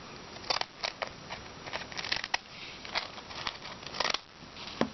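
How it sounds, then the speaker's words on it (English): Scissors snipping in a quick, uneven series of crisp cuts close by, with soft paper rustling between the snips. "I'll use one of these scissors"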